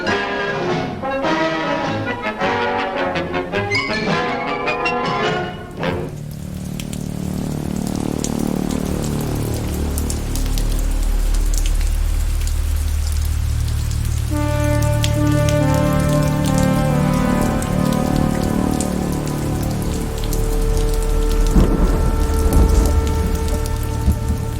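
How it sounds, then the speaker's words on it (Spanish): Heavy rain falls steadily, a loud, dense hiss with deep rolling thunder rumbling underneath, swelling near the end, after a brief stretch of other sound at the start. "Pauli observaba la lluvia que corría por el sucio cristal"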